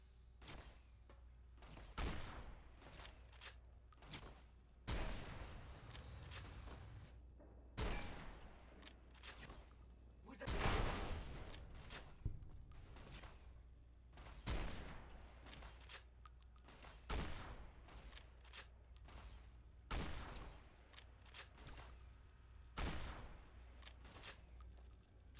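Heavy .50 caliber shots ring out one after another in Fallout: New Vegas, each a loud, sharp blast with a booming tail, spaced irregularly across the stretch.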